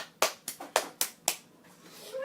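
A few sharp hand claps in a quick, slightly uneven rhythm, about five in a row, followed by quieter room noise and a faint voice.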